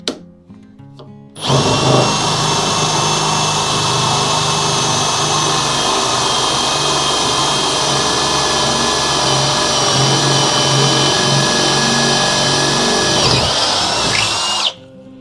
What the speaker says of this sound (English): Once we put it into number 2, the horsepower from the drill, the torque picked up quite a bit